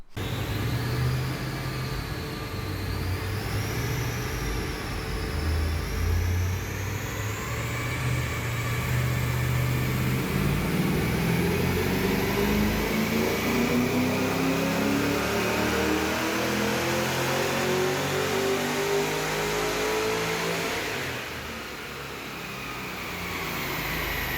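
Holden VY ute with a cammed LS1 engine revving hard on a dyno, a long sustained pull rising in pitch then easing off near the end, loud and close with no talk.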